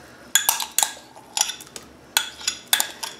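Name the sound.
stirring the gelatin and milk mixture in a bowl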